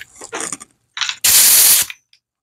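Pneumatic nailer being hooked up to an air line, with short mechanical clicks and rattles followed by a loud burst of hissing air lasting about half a second, then a faint click.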